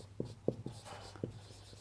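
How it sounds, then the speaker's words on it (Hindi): Handwriting with a pen on paper during an IELTS writing lesson, a few short quiet scratchy strokes close by, with no talk over them. "तो यहाँ पे मैं लिखता हूँ"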